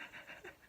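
Pet dogs pant in quick, soft breaths, a brief close burst with no talk over it.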